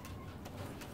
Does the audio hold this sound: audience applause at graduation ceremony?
no